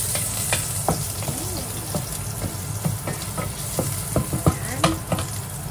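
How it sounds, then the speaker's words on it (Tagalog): Garlic sizzles steadily in a hot pan, a dense bed of frying crackle broken by scattered stirring scrapes and clicks of a utensil, close and fairly loud with no talking. "pwede na tayo maggisa ng bawang at sibuyas"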